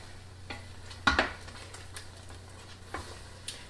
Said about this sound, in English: And I am gonna stir it because I don't want it to stick.